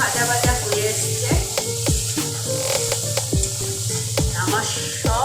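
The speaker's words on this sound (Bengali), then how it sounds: "মশলাটা সুন্দর ভাজা ভাজা হয়ে এসছে।" Spice masala fries and sizzles in a pan while cooking aloo paneer: a steady, close crackling hiss with repeated scraping knocks from stirring throughout.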